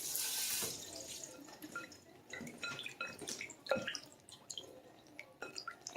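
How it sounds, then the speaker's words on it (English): Tap water runs and drips into a kitchen sink while the last of a can of cream of coconut is rinsed out for a fresh coconut cake, with irregular splashes and trickles close by and no talking. "I'm just rinsing out the rest of this cream of coconut to make sure I get it all."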